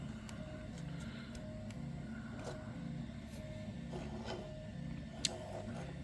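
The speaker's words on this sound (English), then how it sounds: "If you can hear my printer, it's going in the background." A 3D printer prints a part from Paramount carbon fiber nylon (PA-CF) nearby, its stepper motors whirring in faint, repeating tonal patterns with soft mechanical clicks and one sharp tick.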